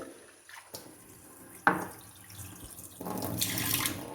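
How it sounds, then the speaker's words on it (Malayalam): Water poured from a kitchen tap onto three tablespoons of oats, a sharp splash followed by a steady running stream, close and fairly quiet with no talk. "ഇതിനൊന്ന് വെള്ളം ഒഴിച്ച് 2 മിനിറ്റ് വെച്ചിട്ട്"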